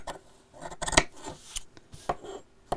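Scissors snipping out the corners of fabric for a box cushion cover at a sewing table: a handful of crisp, close cuts at uneven intervals, with soft rustling of cloth between them.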